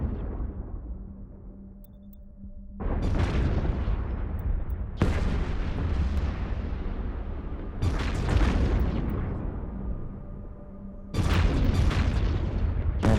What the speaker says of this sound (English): Guess who's shooting medium plasma?